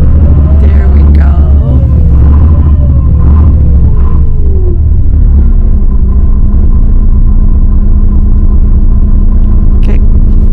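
A bus engine running on a trip from Brasov to Bran after trouble starting: a loud, steady low rumble and drone throughout, with a faint voice in the background.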